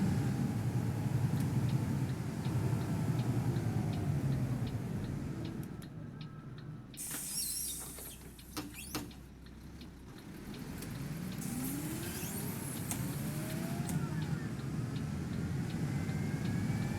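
A Transdev Volvo B7TL double-decker bus in the OMSI 2 simulator drives along with a steady low engine rumble and rising, revving gear tones, dipping briefly midway before building again, heard alone with no talk.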